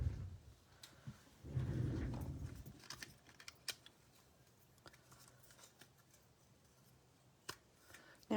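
Scissors cut paper for a craft card in quiet, close snips, with a brief rustle of paper handling and scattered soft clicks, no talking.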